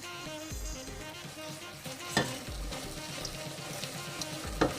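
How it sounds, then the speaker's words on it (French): Cream being poured slowly into hot caramel for salted butter caramel, sizzling and bubbling throughout. A few sharp clinks and scrapes of stirring stand out, and no one speaks. "notre crème, on va la verser tout doucement"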